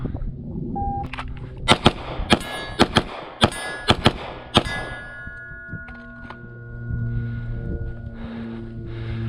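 Pistol shots from a Springfield Echelon ringing off steel targets during a transition drill on an outdoor range: about ten sharp, loud reports in quick pairs and clusters, each leaving a metallic clang and ringing tail, with low hum between.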